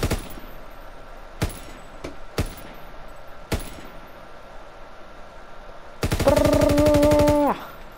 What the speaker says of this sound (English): I'll just mount this LMG one sec.